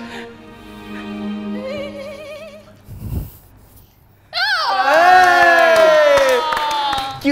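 A crowd at an aerial silk competition shouts and cheers, with scattered voices early on, a brief lull, then a loud burst of whooping and yelling that carries to the end.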